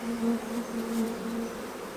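Bees in a long hive give a continuous low, even hum that swells slightly and stays close, with no talking.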